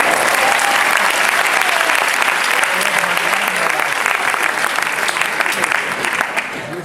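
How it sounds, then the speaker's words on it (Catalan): A premiere audience gives loud, sustained applause for sound, lighting and camera technicians, dense clapping with a murmur of crowd voices underneath that tapers slightly at the end. "Jo volia dir un gran aplaudiment pels tècnics de so, llums i càmera."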